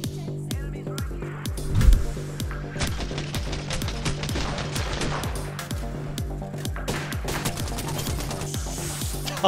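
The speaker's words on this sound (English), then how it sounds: "I'm shooting at them." Rapid bursts of automatic gunfire from the battle royale shooter Apex Legends, dense and continuous with overlapping shots, plus a sharp louder blast near the start.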